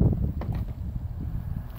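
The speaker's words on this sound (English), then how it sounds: "It's a little windy" Outdoor wind gusts buffet the microphone in low rumbling bursts, strong at the start and then steady, with no voices.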